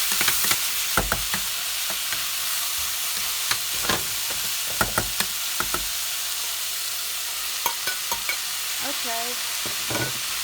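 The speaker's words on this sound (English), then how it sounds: "after we saute the vegetables" Vegetables and tomatoes sauté in a pan with a constant bright sizzle, punctuated by repeated stirring scrapes and clacks of a utensil, while a voice speaks briefly once.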